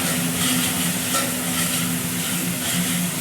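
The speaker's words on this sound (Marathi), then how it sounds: "तेल सुटेपर्यंत चांगला लालसर होऊ द्यायचा आणि हलवत राहायचं खाली चिपकून जातो" Onion masala sizzles steadily in hot oil in a pan for rajma, with a spatula stirring it throughout; continuous close frying hiss with light scraping, no voices.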